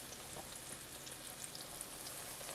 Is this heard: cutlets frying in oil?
yes